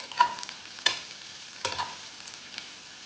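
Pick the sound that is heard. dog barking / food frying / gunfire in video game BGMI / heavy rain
food frying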